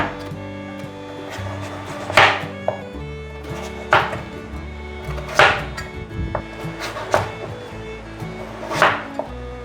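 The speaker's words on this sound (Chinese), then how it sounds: "把南瓜切成大块状" A kitchen knife chops a pumpkin into large chunks on a cutting board, with about six firm, evenly spaced thuds standing out clearly against quiet background music.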